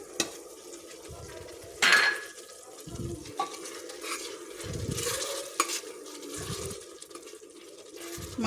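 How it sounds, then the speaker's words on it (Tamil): Ground masala paste being stirred and sautéed with softened onion and tomato in a pan, a spoon scraping in a slow rhythm of separate strokes over a steady low sizzle, with no one speaking. "மசாலா பச்சை வாசம் போக வரைக்கும் நல்லா வதங்கிட்டுறோன்னு திருப்போம்."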